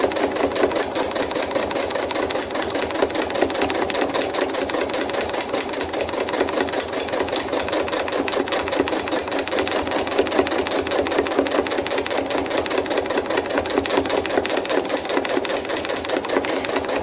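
A sewing machine runs continuously while stitching thread art from a photo with a zigzag stitch, a rapid steady mechanical chatter at close range with no pauses and no talking.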